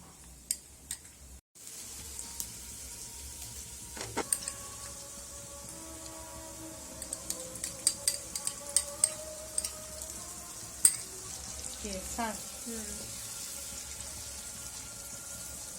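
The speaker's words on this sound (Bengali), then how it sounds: "আর এখানে আমার আদা রসুন এগুলো পেস্ট করা এটা এখন মিক্স করে দেব" Ginger garlic paste stir-fried in a pan for a fish head dish, giving a soft steady sizzle with faint scraping clicks of stirring, quiet and close, no talking over it.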